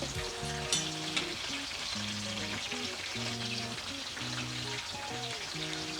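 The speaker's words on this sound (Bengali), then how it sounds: "কালো জিরে আর মেথি ফোড়ন দিয়ে দেবো। একটু ভেজে নেব তেলের মধ্যে।" Black cumin and fenugreek seeds frying in hot oil as a tempering for a vegetarian potol malai curry, giving a steady close sizzle throughout, with background music underneath.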